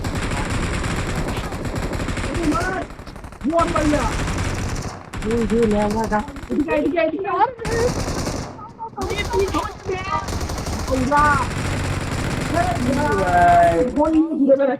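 Gunfire in the mobile battle royale game BGMI, bursts of rapid automatic shots and single cracks coming in clusters, loud and close, with players shouting and talking excitedly over the shooting.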